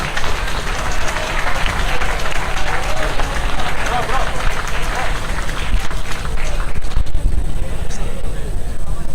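An audience at the AIMS International Conference 2024 applauds an award winner being called up, giving loud, dense, steady clapping that fills the whole stretch, with faint crowd voices mixed in.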